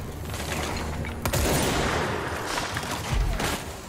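Gunfire in the video game Control, a dense burst of fusillade-like shots with mechanical clatter, loud and continuous over the whole stretch with sharper cracks near the middle and end.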